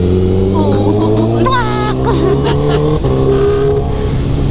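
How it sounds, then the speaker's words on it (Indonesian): A motorbike engine revs while riding through city streets toward Taman Pramuka, its droning tone rising in pitch as the throttle opens, loud and close, with voices talking faintly over it. "Jadi tiap ngegas itu, tiap jalan itu kayak berisik gitu loh."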